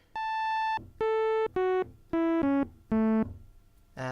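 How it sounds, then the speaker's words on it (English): A buzzy Roland D-50 synthesizer sawtooth tone plays a short sequence of sustained notes stepping downward, with brief gaps between them. "This sound is a saw wave."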